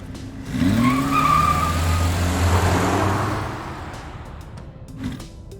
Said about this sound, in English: A little bit of torque steer and tire spin.